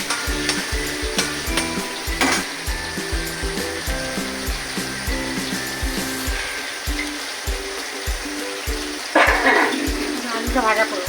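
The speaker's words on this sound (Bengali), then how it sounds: "আলুটা ভাজা করবো।" Potatoes fry in oil in a wok with a steady close sizzle, broken by rhythmic scraping knocks of stirring and a brief burst of louder spattering near the end.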